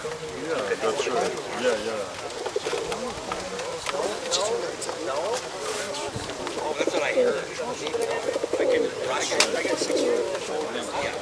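Tippler pigeons at an outdoor lawn show, cooing steadily through the clip amid a busy crowd of people talking nearby.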